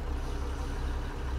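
A Mack E9 engine in a Mack Cruiseliner truck from American Truck Simulator, running with a dense, steady low rumble throughout the short stretch.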